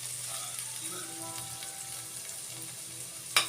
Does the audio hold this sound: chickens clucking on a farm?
no